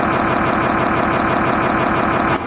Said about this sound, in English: the engine just started